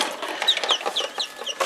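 Newly hatched quail chicks, some speckled, give rapid high-pitched peeps in quick succession, close by, over a faint background rustle.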